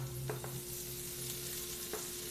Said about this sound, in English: And now I'm going to add the vegetables on top.